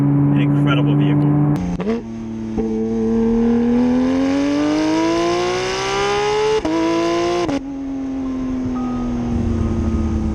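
A Porsche GT3 RS engine revs up toward its high-rpm ceiling, a loud, rising mechanical wail that climbs steadily, briefly drops at two gear shifts, then settles into a sustained high drone heard from inside the car.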